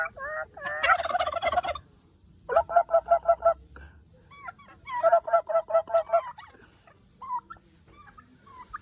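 Several bursts of rapid, warbling turkey gobbles, close by, separated by short pauses, with other bird calls mixed in.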